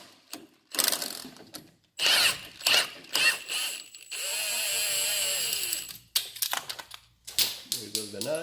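An impact wrench loosens a sway bar link nut on a Chevrolet Silverado during a leveling kit install, with several loud rattling hammering bursts and a steady whirring run, broken by short gaps and clanks.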